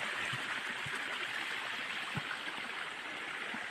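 Stream water rushes below a waterfall with a constant, airy hiss and a few soft gurgles, steady and fairly distant, with no other sounds on top.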